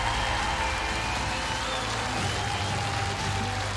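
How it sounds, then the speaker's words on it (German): A studio audience on a German televised singing competition gives a sing-off duo a round of applause. The clapping is a continuous, even wash of moderate loudness, with a low hum underneath. "Das ist euer Applaus, Anja und Sid."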